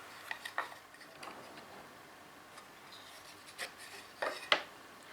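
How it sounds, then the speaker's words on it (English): Marking gauge scribing lines on the inside faces of wooden sides while making a bench hook, heard as faint scratchy rubs and light ticks in short irregular strokes, quiet and close with no talk. "we scribe on the inside of the sides at the edge where the base is going to go"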